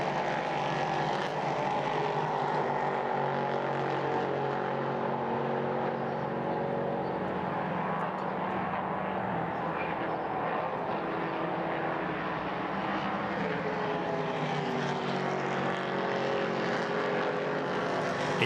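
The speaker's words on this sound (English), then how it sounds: "enjoy the roar of these Nissan engines" Nissan prototype race cars roar past on the Hockenheimring circuit during a Prototype Cup Germany race, a steady, continuous wash of engine noise at moderate distance with no voices over it.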